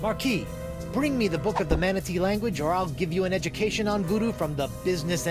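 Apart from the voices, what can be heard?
None of the usual background noises is heard.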